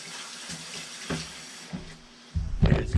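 Tap water splashes in a sink as mushrooms are rinsed, starting as faint intermittent trickles and then swelling into a louder steady gush near the end.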